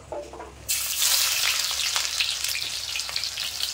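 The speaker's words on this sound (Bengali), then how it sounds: "তো দেখো এখানে তেলটা গরম হয়ে গেছে। পেঁয়াজের ব্রেস্তার জন্য পেঁয়াজ দিয়ে দেবো।" Onions hit hot mustard oil in a pan for boal fish kalia and erupt into a loud, steady crackling sizzle after a short quiet moment, frying close by without any talk.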